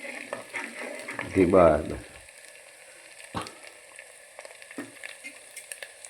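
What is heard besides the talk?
stirring lilva beans curry frying in a pan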